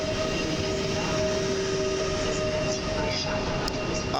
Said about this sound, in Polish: obok wjeżdża oklejony 20 lat Intercity Gryfin z jakimś składem Intercity